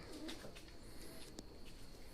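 A pigeon coos softly near a loft cage with a brief sharp tap midway and a low steady background hiss, and no one speaks.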